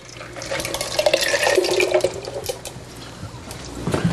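Homemade lemon syrup is poured over ice in a home kitchen, giving a splashing, trickling liquid sound with small rattles of ice, moderately close and continuous for a few seconds with no talk.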